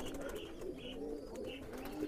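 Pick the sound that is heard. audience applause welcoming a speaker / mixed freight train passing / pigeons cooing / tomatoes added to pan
pigeons cooing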